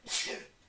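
A single short sneeze, quiet and close, with a sharp breathy burst followed by a brief fading exhale.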